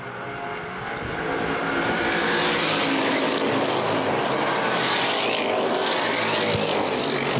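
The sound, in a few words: stock cars racing on oval track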